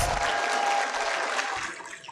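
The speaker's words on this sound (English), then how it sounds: "Please give yourselves a round of applause." Graduates at a congregation ceremony in a conference centre applaud themselves, a brief broad wash of clapping that tapers off, with no speech over it.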